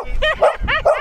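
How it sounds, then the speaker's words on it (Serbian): A dog gives four quick, high, yipping barks within about a second. The barks are loud and close. "Gle, pas."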